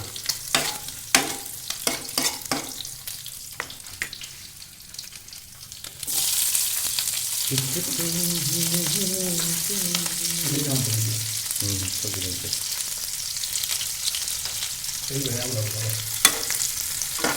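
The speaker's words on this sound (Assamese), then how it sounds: "গাহৰি তেল দিয়ে গাহৰি ভাজিব পাৰি" Pork dry-frying in its own rendered fat, a steady loud sizzle with stirring scrapes throughout and brief scraping utensil clatter near the start, no other sounds.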